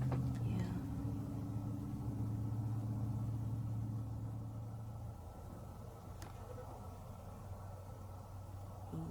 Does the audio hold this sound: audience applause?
no